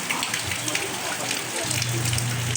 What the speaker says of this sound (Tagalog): Oh, grabe talaga ulan ngayon.